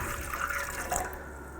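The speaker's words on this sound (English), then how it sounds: "So I will add in my water." Lukewarm water poured into a bread maker pan for wholemeal bread dough, a close, steady splashing flow that lasts briefly, with no talk.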